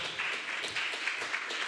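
A church congregation applauds together in steady, close clapping that keeps up through the short span without fading, dense and fairly loud, with no talk heard over it.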